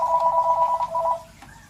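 A landline telephone bell rings in a steady repeating trill for over a second, close and fairly loud, then breaks off into quiet room noise.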